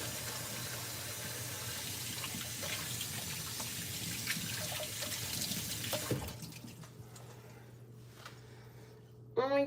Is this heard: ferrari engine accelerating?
no